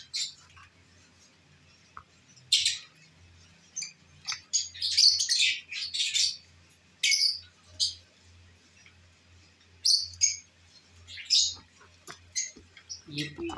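Pale fallow lovebirds, a home-bred pair, chirp in short sharp bursts, close and fairly clear, with a low hum underneath.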